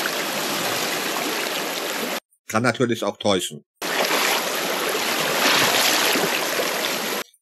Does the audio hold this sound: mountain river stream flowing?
yes